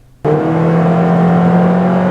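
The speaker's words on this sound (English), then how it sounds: "the CVT allows the engine to rev ahead of actual vehicle speed. It produces a droning" A 2014 Toyota Corolla engine with a CVT transmission starts droning abruptly after brief quiet, holding a steady loud engine tone with a slight rise, close and with no talk.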